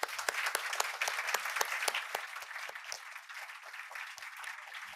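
A small audience at a panel discussion on conflict and democracy claps, with distinct individual claps audible at first, then thinning and fading over a few seconds.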